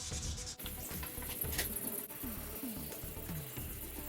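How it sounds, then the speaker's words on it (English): Wet sanding a car headlight with 2000 grit sandpaper, a soft, steady rubbing and scraping of the paper across the plastic lens, close and quiet, in short back-and-forth strokes. "I'll start sanding the headlight."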